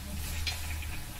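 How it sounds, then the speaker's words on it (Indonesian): Mango chips fry in hot oil during a village snack-making training session, giving a steady sizzling crackle with light stirring clicks close by. "Ya, sedang menggoreng keripik mangga."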